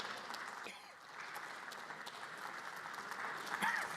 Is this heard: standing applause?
yes